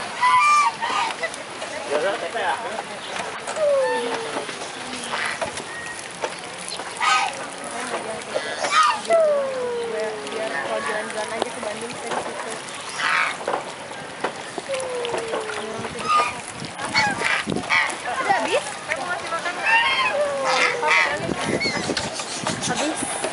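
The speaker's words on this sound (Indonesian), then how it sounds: "Tuh angsa tuh, Nak." Geese honk repeatedly at a floating market in Bandung, scattered honks rising over water splashes, boat noise and a busy crowd, with people talking nearby throughout.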